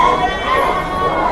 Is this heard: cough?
no